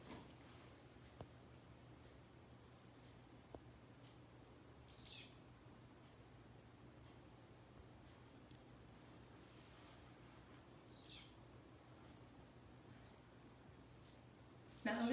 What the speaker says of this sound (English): play for you what the chestnut-backed chickadee sounds like